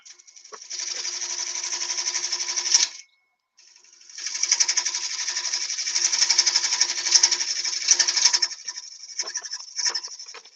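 Lathe running at 700 RPM while turning a workpiece makes a loud, buzzing rattle with a steady whine, briefly stopping before resuming and continuing unevenly.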